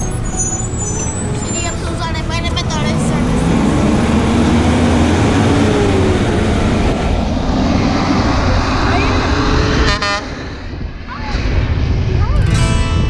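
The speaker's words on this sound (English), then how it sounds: "Garbage truck in Tucson right now." A garbage truck drives past on a street in Tucson, a loud, rumbling engine roar that swells and fades, with hissing brakes near the end and a voice talking over it.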